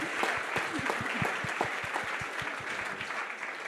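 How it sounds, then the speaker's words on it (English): Audience applause at a benefit event for a young mentee, a steady patter of many hands clapping at moderate distance for several seconds, with no voices over it. "I want to give a round of applause to you as well"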